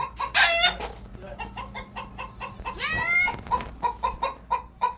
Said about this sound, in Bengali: এই ঘরে ঢুকে গেল সব মুরগিগুলো।